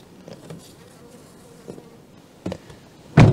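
A bee buzzes faintly around someone outdoors in early spring, with a few soft bumps and a louder knock at the end.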